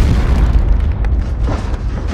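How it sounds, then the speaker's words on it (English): A loud, heavy rumbling destruction effect rolls and crumbles continuously, with deep booming weight and scattered debris-like crackles, alone with no speech. "Destruction effects."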